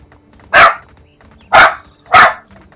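A dog in the video game My Time at Sandrock gives three loud, sharp barks, spaced about a second apart and heard alone over quiet game ambience.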